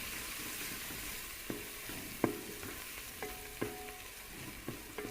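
Garlic, ginger and turmeric fry in a pan for restaurant-style aloo gobi, a soft, even sizzle with occasional light metallic taps and scrapes from stirring, fairly quiet and without speech.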